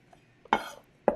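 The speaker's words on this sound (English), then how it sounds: "next we are going to cut the scallion and then the parsley" A knife chopping scallions on a cutting board while preparing a Greek spinach filling for spanakopita: two sharp, close knife strikes with a short gap between them, otherwise quiet.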